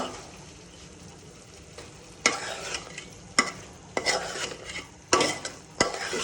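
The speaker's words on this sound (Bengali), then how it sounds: "আমি একটু কষাবো পাঁচ দশ মিনিটের মতো কষাবো" Tomato and potato sautéing in a hot pan for a shole fish curry, a steady low sizzle broken by several sharp, loud scraping stirs of a spoon against the pan.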